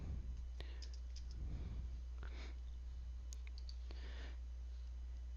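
Soft, scattered keystrokes on a computer keyboard as a library database search title is typed, faint and irregular over a steady low electrical hum.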